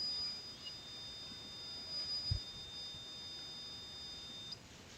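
A thin, steady electronic buzzer tone from an Arduino door alarm with an MC-38 magnetic reed switch sounds almost continuously, briefly broken near the start, with a soft thump midway.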